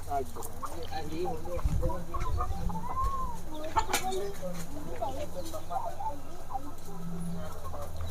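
Native country hens and a rooster cluck inside a poultry shed, with scattered clucks and calls throughout, close and moderately loud, while someone talks over them.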